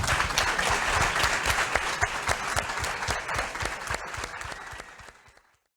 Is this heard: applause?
yes